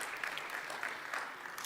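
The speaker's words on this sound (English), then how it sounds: "So how about like a round of applause for BUITEMS" An audience at an academic economics conference at BUITEMS in Quetta claps briefly. The applause is a short, moderately faint patter of many hands.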